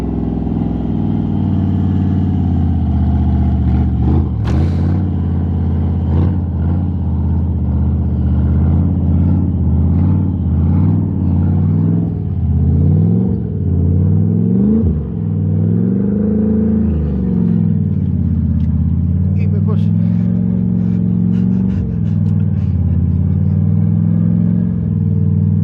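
A rat rod SN95 car engine revs again and again, a loud, close, deep mechanical drone that rises and falls in repeated swells, with brief sharp clicks and knocks scattered through, and no talk.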